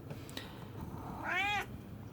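Meowfoy, a house cat, lets out a single short, clear meow near the microphone after a quiet stretch with a few faint taps.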